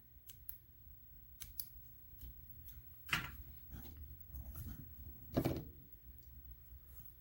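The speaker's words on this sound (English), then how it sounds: "I'm going to cut my yarn." Scissors snip through yarn during a crochet project, several faint quick clicks followed by two louder crisp cuts, close by in a quiet room with no talk.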